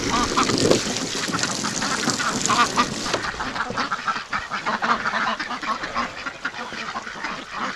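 A loud, continuous chorus of ducks quacking over one another, dense and busy throughout, with a faint voice briefly audible under the din.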